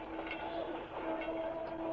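A train running on rails, a continuous rumbling roll with a faint tonal whine, steady and moderately loud with no voices.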